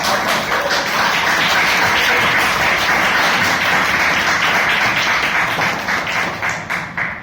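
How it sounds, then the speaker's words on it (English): Audience at a Toastmasters meeting breaks into a loud round of applause, dense steady clapping from many hands that carries on for several seconds before thinning out. "With a huge round of applause, let us invite on stage Toastmaster."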